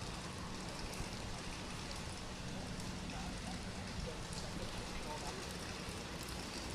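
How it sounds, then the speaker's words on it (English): Steady rain pouring over an outdoor women's rugby league match, a constant broadband hiss that stays even and fairly loud throughout, with a commentator's voice talking over it. "The rains will take a lot on these players"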